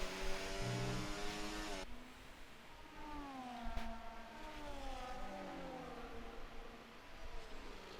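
F1 race cars in a racing video game at Silverstone scream past in a close train, several high engine whines rising and falling through gear changes, loud and overlapping throughout.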